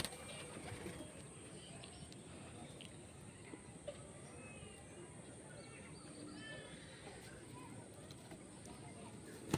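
Domestic pigeons in a loft give low, murmuring coos that sit steadily under a constant background hiss, with faint voices in the distance.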